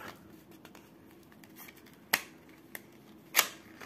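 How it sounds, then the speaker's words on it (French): Rainbow-coloured craft scissors are handled in a quiet room, giving a few sharp, brief metallic snips and clicks, two louder ones standing out against soft rustling. "Voilà, mes ciseaux"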